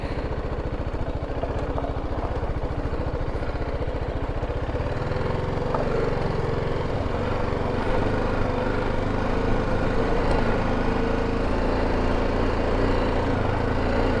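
A motorcycle engine runs steadily while the bike rides across salty desert ground in Iran, a loud, continuous mid-pitched drone with some clatter and no talk over it.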